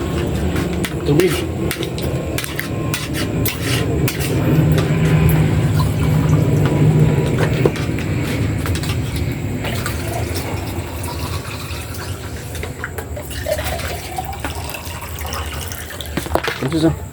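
Water pours into a pan while pork afritada is cooking, a steady running splash that carries on for several seconds amid kitchen clatter, with people talking over it.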